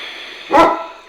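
A dog gives one short, loud bark at ravens, close by, against a quiet background during an indoor yoga session.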